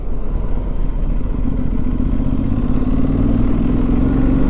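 A Benelli Leoncino 800 T motorcycle riding along with a steady, loud engine drone and road rumble, holding an even note with a slight rise in pitch toward the end.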